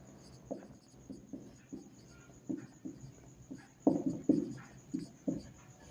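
Handwriting for a class 10 maths lesson, a pen scratching out strokes in short bursts at a steady, uneven rhythm, close and clear with no talking.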